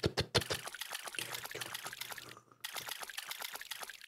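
Watering crops in a farming roguelike video game: rapid pouring and splashing water effects in quick repeated bursts, close and bright, with a short pause midway.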